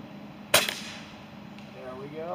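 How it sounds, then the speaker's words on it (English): One sharp crack from a Benjamin Armada .25 PCP air rifle fired at a pumpkin outdoors, close and brief, with a faint echo, then quiet background. "we're going to go ahead and shoot that a couple times to make up for it"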